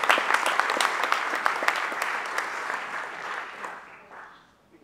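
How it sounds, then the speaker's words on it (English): An evening presentation audience breaks into warm applause, a dense wash of many hands clapping that holds steady, then thins and fades out over the last second or two. "So could you give her a round of applause"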